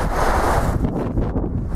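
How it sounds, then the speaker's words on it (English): Loud wind buffeting a nearby microphone outdoors on a cold, windy day, a rough low rumble that shifts in strength, with no voices. "It's extremely cold and windy today."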